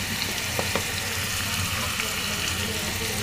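Potato and fish roe fry in a pan with chopped chili, ginger and garlic paste, a steady close sizzle broken by a few soft stirring scrapes.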